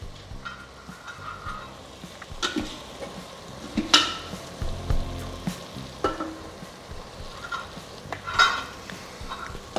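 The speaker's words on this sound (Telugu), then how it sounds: "కొద్దిగా బాగా ఫ్రై చేసేసి మిక్స్ చేసేసారు అంటే బాగా కలిసిపోతుంది." Chili powder and ground coriander sizzle in hot oil in a pan for ulavacharu chicken pulao, with a steady frying hiss broken by scrapes and clinks of stirring, close and alone without talk.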